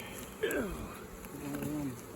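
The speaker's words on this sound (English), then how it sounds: "let's see if we get some of these bees off of here." Honey bees buzz close by around old crumbling wood during a bee rescue, a soft, wavering drone with a few rising and falling tones as individual insects pass.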